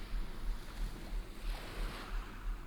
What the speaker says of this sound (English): Become conscious of the sound of the waves as they're breaking ever so gently on the shore.